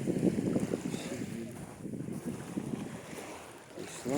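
A light sea breeze on an evening seaside promenade in Novy Svet, heard as a steady, soft rush of wind across the microphone with a distant wash of sea and faint voices underneath.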